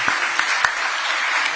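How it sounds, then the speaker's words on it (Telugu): Short burst of audience applause from a seated crowd at an event with a state minister, brisk and loud, a few sharper claps standing out in the dense clapping. "అందరు చప్పట్లు కొట్టండి మరి"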